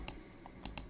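A few quiet, scattered keystrokes on a computer keyboard while code is typed, three or four distinct clicks close by with no talking.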